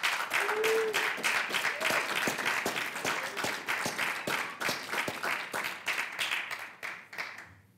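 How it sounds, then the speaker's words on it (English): A crowd at an air and missile defense awards ceremony gives a round of applause, distinct individual claps standing out in a moderately quiet, steady patter that thins and trails off near the end. "Give them a round of applause."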